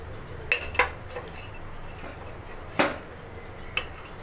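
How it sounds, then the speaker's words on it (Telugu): A few sharp metallic clinks of a kadai being set on a stove in a home kitchen while cooking pappucharu. The short knocks are spaced apart against a quiet background. "కడాయి పెట్టి స్టవ్ వెలిగించానండి."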